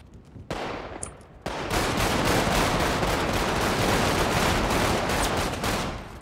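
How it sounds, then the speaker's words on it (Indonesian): Gunshots in GTA 5 roleplay, with dense automatic fire rattling continuously and loudly after a brief burst, close and sustained. "Oh, kau tembak aku ni."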